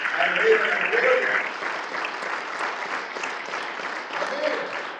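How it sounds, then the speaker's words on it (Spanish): Church congregation at a Spanish-language general worship service clapping loudly together, a thick, sustained wash of applause that swells at first and then holds steady with murmured voices mixed in. "Denme un aplauso fuerte al Rey de la Gloria."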